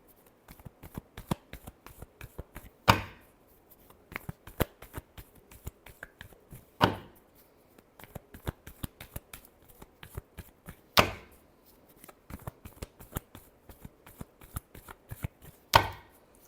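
Tarot cards shuffled by hand in soft, rapid riffling bursts, with a few sharper slaps as the deck is squared, close and fairly quiet with no talk.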